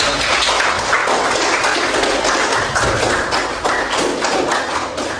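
Classroom audience applauding after a group presentation: a steady, dense wash of many hands clapping that stays fairly even for about five seconds, with no talking over it.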